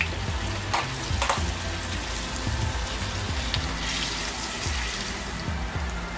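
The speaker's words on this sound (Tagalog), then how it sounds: "ipiprito na natin yung ating tofu" Firm tofu fries in a pan with a steady close sizzle and crackle, broken by a few sharper spits and pops; no talking.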